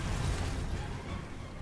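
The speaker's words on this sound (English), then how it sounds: "the full explosion is quite risky, as you just saw." A dense, roaring blast from the Alatreon fight in Monster Hunter World Iceborne, a loud sustained explosion rumble filling the whole moment with no talk over it.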